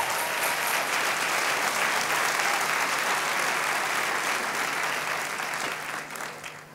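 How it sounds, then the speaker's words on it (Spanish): A church congregation claps together in praise to the Lord, sustained loud applause filling the room and tapering off near the end. "dele palmas al Señor"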